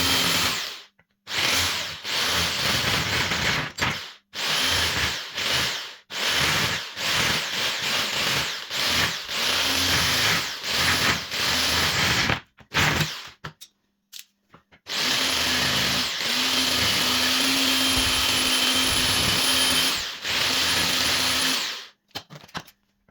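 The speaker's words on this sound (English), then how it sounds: "So I'm going to use a jigsaw now to cut the rest out." A jigsaw cuts through MDF skirting board in a series of loud, close, buzzing bursts, with stops between cuts and a longer steady cut near the end.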